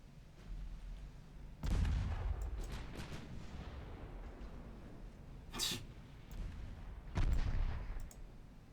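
Naval guns fire at a cruiser in the game Ultimate Admiral Dreadnoughts: two heavy, low booms several seconds apart with a brief sharp crack between them, all fairly quiet over a faint background hum.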